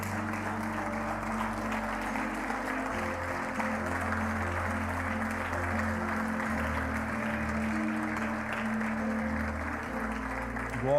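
Sustained applause from a large church congregation, steady and dense throughout, with no one speaking over it.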